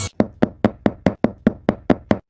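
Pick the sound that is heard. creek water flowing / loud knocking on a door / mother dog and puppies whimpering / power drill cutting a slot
loud knocking on a door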